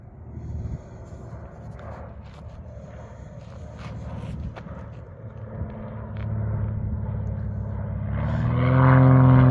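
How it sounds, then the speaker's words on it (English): A United connection airplane making a go-around in windy conditions: a low, distant rumble that steadily grows louder toward the end as it passes overhead. "There's a plane."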